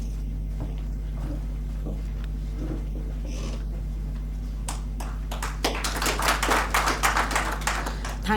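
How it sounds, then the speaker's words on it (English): Audience applause at an NGO meet-up in Goa, starting as a few scattered claps over a steady hum and building into dense, louder clapping in the last few seconds. "A huge round of applause for Udant."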